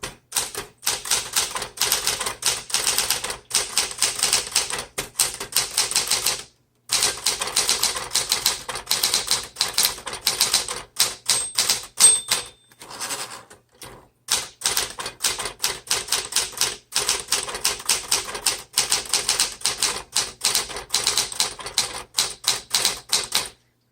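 A 1970 Smith Corona Classic 12 manual typewriter typing in quick, uneven bursts of sharp close key strikes, broken by a few brief pauses and a carriage return, loud and with no voices.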